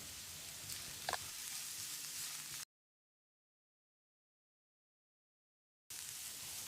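Steady frying sizzle from chopped carrot sautéing in a pan, a continuous crackling hiss, cut by a few seconds of complete silence before resuming.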